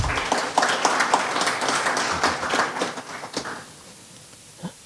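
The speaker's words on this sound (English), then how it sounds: "just give him a round of applause, please" Crowd at a track and field meet launch event applauding, a brisk round of many hands clapping near the start that thins out and fades to quiet room tone by the end.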